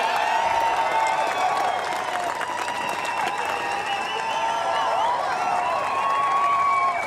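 Crowd applauding and cheering for the 2025 British Touring Car champion Tom Ingram at a trophy presentation, a sustained wash of clapping and shouts with a few voices rising above it.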